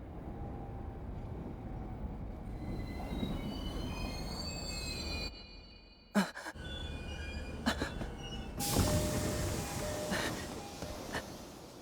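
A Tokyo train runs between stations with steady rumbling wheels, high squealing tones from the rails, a brief quiet dip, sharp clacks, and a loud burst of noise near the end.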